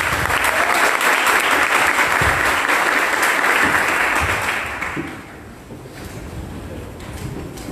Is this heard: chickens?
no